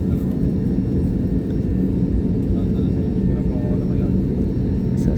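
Airplanes on the busy runway at Manila's NAIA Terminal 3 give a steady, far-off low jet rumble that holds at an even level throughout, with a voice faintly audible beneath it.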